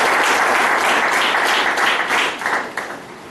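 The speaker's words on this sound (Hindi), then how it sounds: "जबरदस्त आप लोगों की ताली चाहूंगा।" An audience at a BNI seminar in Kondagaon, Chhattisgarh, breaks into loud, dense applause that holds steady and then thins out toward the end, with no talk over it.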